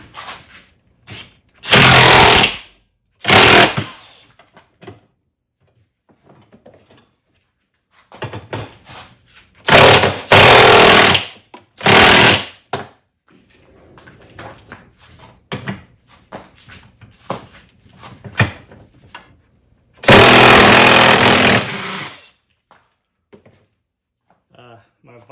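A DeWalt 20V DCF899D cordless impact wrench breaks nuts held in a vise, firing several loud hammering bursts of one to two seconds each. People talk quietly between the bursts.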